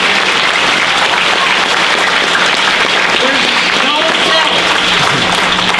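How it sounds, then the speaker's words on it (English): Steady, loud applause from a crowd of students, staff and families filling a school gym during an elementary school Veterans Day assembly, sustained clapping throughout with no pauses. "it is okay to give a round of applause."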